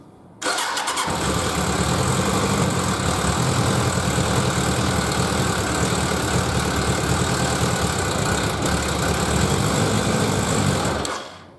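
A Suzuki GSX1100G motorcycle engine fires up after a brief crank and settles into a loud, steady idle close by, running continuously for about ten seconds before cutting off, with no choke set.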